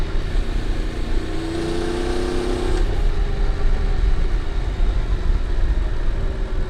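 A Honda NC750X motorcycle engine drones steadily while riding through corners, a loud low rumble with wind rush and a brief rising tone partway through, no voices.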